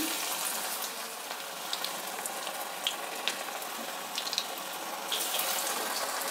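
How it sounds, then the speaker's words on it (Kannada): Moong dal masala vadas sizzle in hot oil, a continuous crackling fry with scattered sharper pops and a slight swell toward the end, close and fairly quiet with no voices. "ಈಗ ಎಣ್ಣೆ ಕಾದಿದೆ, ವಡೆನ ಇಷ್ಟಪ್ಪ ಉಂಡೆ ತಗೊಂಡು ವಡೆ ಥರ ಈ ರೀತಿ ತಟ್ಕೊಂಡು ಹಾಕ್ತಾಯಿದ್ದೀನಿ"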